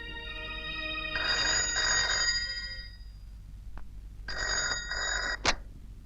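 A telephone rings in two electronic bursts separated by a short pause, fairly faint against a quiet room background, with a small click between them.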